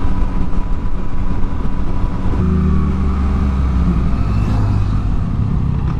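A Kawasaki motorcycle passes on a mountain road, its engine a loud, continuous rumbling drone that shifts to a lower, steadier tone partway through.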